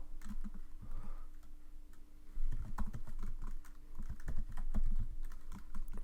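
Keys clack on a computer keyboard in irregular bursts of close, crisp taps, with brief pauses between runs and no voices.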